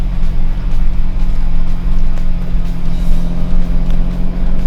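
A truck driving off-road at speed over bumpy, hilly farmland, its engine a loud, steady close-up rumble with rough, uneven surges and no talking.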